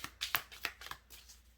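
Tarot cards being shuffled on a lap, a short run of crisp riffling flicks and soft card slaps, close and fairly quiet, with no talk.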